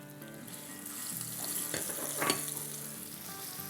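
Chopped garlic with nigella seeds and cumin sautéing in oil for an instant vegetable pickle, a steady close sizzle with soft stirring scrapes swelling midway, no voices.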